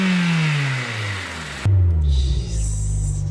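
The engine of an Acura RSX, just fixed after a starter motor problem, runs loudly up close. Its pitch winds down, then it roars into a strong rev that holds steady and rumbling.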